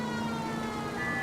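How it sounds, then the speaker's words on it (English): A steady electronic police car siren in the video game LA Noire wails continuously with a buzzy, synthetic tone over a low hum, without pauses, sounding close and moderately loud. "Maybe I shouldn't put the siren on."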